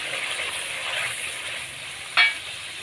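Yogurt going into a pan of frying tomatoes for palak gosht, with a steady sizzle, a brief sharp scrape or clink of stirring near the end, and no talking.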